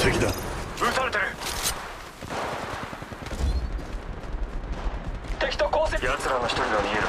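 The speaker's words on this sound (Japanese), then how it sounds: "敵だ。 撃たれてる。" Gunfire rattles almost without pause in Apex Legends Mobile, close and loud, with sharp bursts and heavy blasts layered together while a voice talks over the fighting.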